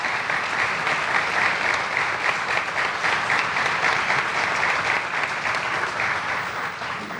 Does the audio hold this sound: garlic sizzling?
no